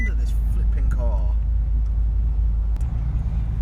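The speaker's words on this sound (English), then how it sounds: "Sound of this flipping car." A Bentley Continental GTC convertible with a sports exhaust gives a steady, deep engine rumble while driving, with the low drone continuous beneath brief speech.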